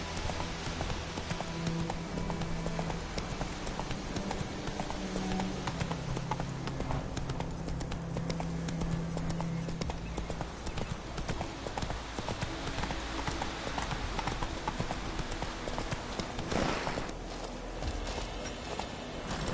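Horse hooves clip-clop steadily in The Witcher 3 video game, a continuous walking rhythm of close, clear hoofbeats over game ambience and faint music, with no speech.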